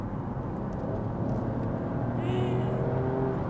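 An Alfa Romeo Stelvio Quadrifoglio accelerates hard, its engine note a steady, rising roar heard from inside the car over continuous road rumble.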